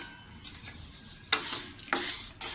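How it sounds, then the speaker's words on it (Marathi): Urad dal dry-roasting in a pan for Malvani kombdi vade flour, stirred with scraping, rasping strokes that swell into a few louder bursts near the end, with no voices. "आता आपण ही उडदाची डाळ तशीच भाजून घेऊया."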